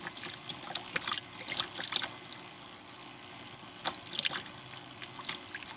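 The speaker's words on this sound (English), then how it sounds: "But you can see here, that it is dripping." Water drips and trickles in a Dutch bucket hydroponic system, with irregular small splashes and drips over a low background hum, close and faint, without talk.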